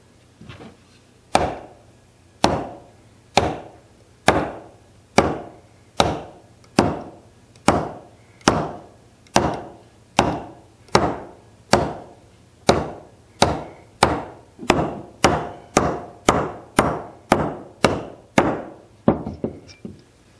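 Sharp metallic taps of a hammer driving a nail through a lid to punch holes repeat steadily, about one per second, some twenty strikes in a row, speeding up slightly toward the end, with no talking.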